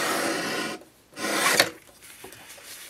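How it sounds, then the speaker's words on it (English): Craft cutter slicing through paper for a journal cover: two rasping scraping strokes, each under a second, close and fairly loud, followed by quieter handling. "While I have my cutter out, I'm going to cut this."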